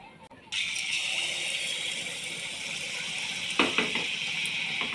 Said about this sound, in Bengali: এবার আমি গুড় পিঠাগুলো ভেজে নেব।